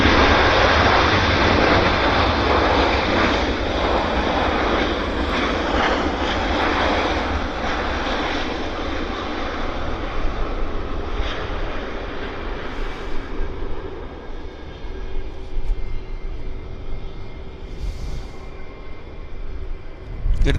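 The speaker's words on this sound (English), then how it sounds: "United Airlines inbound from San Francisco" A United Airlines airliner inbound from San Francisco roars at Vancouver Airport, loud and broad at first, then slowly easing off over twenty seconds.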